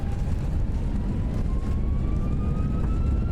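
Jet engine roar from an FSLabs A319 on reverse thrust during landing rollout in the Prepar3D flight simulator, a steady, loud, broadband rumble with a faint rising whine that holds throughout without letup.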